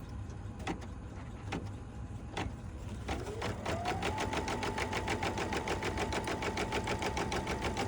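A sewing machine, likely an embroidery unit, runs a placement stitch on the centre heart of a quilted mug rug. A few clicks come first, then the motor rises into a steady, rapid, close stitching rhythm that holds to the end.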